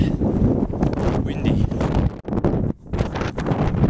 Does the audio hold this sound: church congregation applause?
no